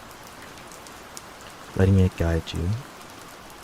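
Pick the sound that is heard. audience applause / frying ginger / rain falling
rain falling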